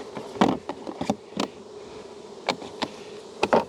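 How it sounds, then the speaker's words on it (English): Honeybees swarming around an opened hive during frame work in an apiary, a steady close buzz broken by several louder bursts as individual bees fly past the microphone. "Lots of bees there."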